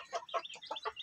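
A three-month-old native chicken rooster clucks and crows in short, rapid, close bursts, about six quick calls in a second with no talk over them.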